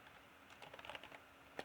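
Quiet, close key clicks on a computer keyboard, a short burst of rapid taps in the middle and a single firmer press at the end, with no talking.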